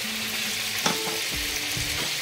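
Chopped garlic sizzles in hot oil alongside a frying fish head, a steady bright crackle with a single sharp clink of a utensil partway through and soft stirring scrapes afterward.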